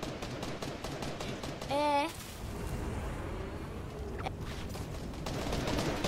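Rapid bursts of automatic weapon fire from a slow-firing but powerful gun in Fortnite Battle Royale, heard as a quick rattling volley amid game sounds, with a player talking briefly over it.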